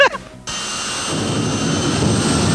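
A drag-racing jet car's engine at an event lights with a sudden loud roar and then holds a steady, close, powerful turbine blast with a hissing high whine, after a brief moment of low rumbling and clatter.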